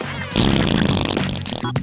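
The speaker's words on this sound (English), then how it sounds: "So we can blame beans for making us fart." A short, loud fart after eating baked beans, a sputtering burst lasting under two seconds with a brief break near the end, heard alone up close.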